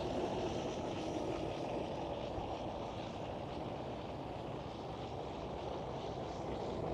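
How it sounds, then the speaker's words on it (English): A British Airways Airbus A380 at Schiphol gives off a steady, distant jet roar that holds at a fairly even level throughout, with no voices. "The British Airways for a Better World A380."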